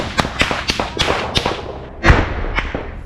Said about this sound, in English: One more grenade toward the enemy's hideout.